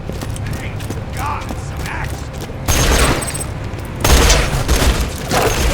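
Enemy gunfire in Borderlands 2 as a loud, dense clatter of shots that starts abruptly and surges again moments later, with mechanical clanks, over a busy game backdrop with faint voices.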